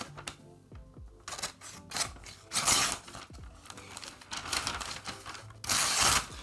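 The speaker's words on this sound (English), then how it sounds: "it feels very sharp, so let's test it with a paper cut." A sharpened butter knife slicing and tearing through a sheet of paper, giving a close series of dry scraping, crackling strokes in uneven bursts with brief pauses between.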